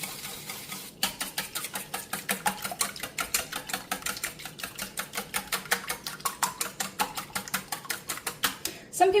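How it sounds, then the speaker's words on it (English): Eggs for an omelette are beaten in a bowl to break up the yolks, making a fast, even train of close, crisp taps and clicks that runs steadily for several seconds. "You want to break up those egg yolks"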